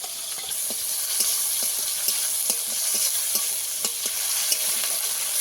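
Tomato frying in a pan with panch phoron, giving a loud, steady hiss of sizzling oil punctuated by regular light taps and scrapes from a stirring spatula; no speech.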